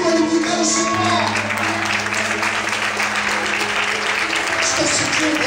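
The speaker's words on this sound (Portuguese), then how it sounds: "Vamos podem aplaudir e glorificar o Senhor." A church congregation claps loudly together during a worship service. The applause is continuous and dense, with sustained musical tones and voices running beneath it.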